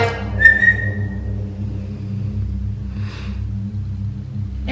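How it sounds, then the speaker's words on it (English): A single short, clear whistle rings out once near the start over a steady low rumble outdoors at night in a village, followed by quieter background noise and a faint hiss later. "I heard a whistle like"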